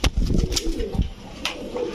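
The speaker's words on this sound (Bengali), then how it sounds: "রামপুরি কবুতরের দাঁড়ানো দেখেন" Rampuri pigeons coo in low, throaty bursts under a busy pigeon-market background, with a few sharper rustles and flutters mixed in.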